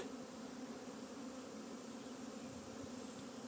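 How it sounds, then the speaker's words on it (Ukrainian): A dense, steady hum of many honeybees flying around an apiary on a mid-May afternoon, continuous and fairly quiet, with no voices. "Бджоли пішли на обліт"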